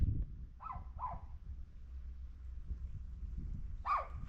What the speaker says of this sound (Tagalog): Mas maingay yung aso dyan.